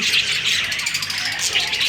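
A colony of budgerigars chirps continuously in a dense, steady chatter of high twittering calls, loud and close, with no clear pauses.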